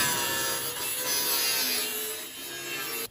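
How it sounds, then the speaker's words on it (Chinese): Cutting machine slicing through a scrapped air conditioner, a harsh continuous grinding and rasping with wavering pitch, fairly faint, that cuts off abruptly at the end. "直接用切割机"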